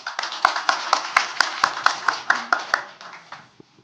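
Small audience clapping to open a panel discussion at the KARA 2024 radiation industry forum in Korea, a crisp run of distinct, fairly even claps that thins out and stops after about three seconds.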